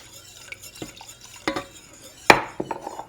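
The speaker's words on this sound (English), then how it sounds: "I'm going to add all but 1/2 of a cup of beef broth, which I'm going to hold in reserve" Beef broth goes into a roux-based Alfredo sauce over medium heat while a utensil stirs it, with soft swishing and a few sharp clinks against the pan.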